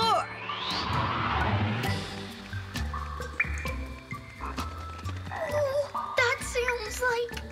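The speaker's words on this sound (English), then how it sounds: "Sounds like a hungry cave frog" A cartoon cave frog croaks loudly in a kids' robot cartoon, the deep croaks mixed with dripping cave water and bright musical sound effects, with voices talking around it.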